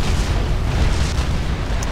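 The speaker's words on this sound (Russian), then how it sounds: "Артиллерия бьет АЕГИС. Мощно. Одно попадание, еще одно попадание такое." Artillery shells from Supreme Commander strike an Aegis shield, producing a dense, continuous low rumble of impacts with a couple of sharper hits, loud and sustained for about two seconds with no talk.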